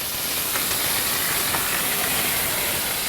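Marinated chicken searing in a hot pan gives a loud, steady, broadband sizzle and hiss that runs unbroken throughout, close and dense, with no talk.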